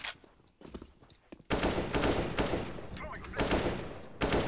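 Bursts of automatic AK rifle fire in a first-person shooter game, loud and close, coming in several repeated volleys after a quieter stretch, with a voice talking over the first moments.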